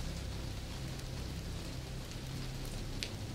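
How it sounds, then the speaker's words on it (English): Rain falls on grass and a dark lake in a steady, even hiss of dense drops, soft and continuous, with no voices. "watch as the rain falls harder on the grass and dark waters of the lake below"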